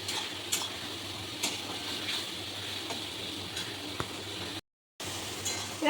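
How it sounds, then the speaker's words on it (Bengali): Onions fry in a pan for chana masala while being stirred, giving a soft steady sizzle with occasional light utensil scrapes and clinks. A brief silent gap breaks the sound near the end, and no one talks. "এবার পেঁয়াজটা কিছুক্ষণ নেড়ে চেড়ে নিলাম।"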